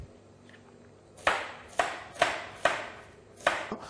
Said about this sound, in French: je tourne d'un quart de tour cet oignon et on va couper à l'horizontale